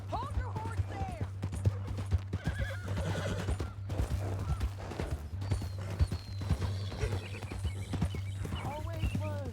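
A horse whinnies and its hooves clip-clop steadily in a video game, with people talking over the sounds throughout.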